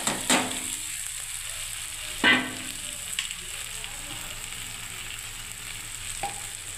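Mixed vegetables sizzle and fry steadily in a hot pan for a panch mishali chachchari with cumin, coriander, mustard, poppy seed and bori, with a few sharp scraping clicks of stirring and no talk.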